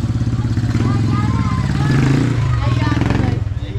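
Motorcycle engine idling and revving on Talim Island, a steady mid-pitched putter with clatter, close by, under people chatting nearby.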